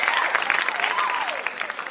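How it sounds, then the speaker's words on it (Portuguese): Short round of clapping from a small audience during a physics lesson, fairly steady and moderately loud with a thin voice-like tone gliding underneath. "Palmas para nós."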